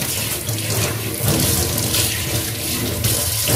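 Running tap water pours into a sink, a loud continuous splashing rush with slight surges, and no voices over it.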